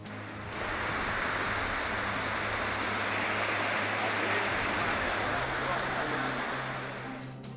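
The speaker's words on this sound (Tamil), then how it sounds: "நீலகிரி மாவட்டம் பந்தலூர் சுற்று வட்டார பகுதிகளில் ஒரு மணி நேரத்திற்கும் மேலாக கனமழை." Heavy rain in the Pandalur area of Nilgiris district, a dense, continuous roar of downpour that swells in and stays steady and loud throughout.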